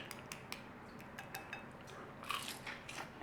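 Crunchy noodles from a sweet and sour noodle bowl are bitten, giving a few crisp crunches and light clicks of cutlery, close up with no talking.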